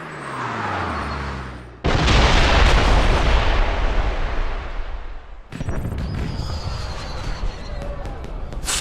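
Fireworks burst during a James Bond Blood Stone video game cutscene. Two heavy, booming blasts hit close and loud, each followed by a crackling, rumbling tail, and voices may be mixed in.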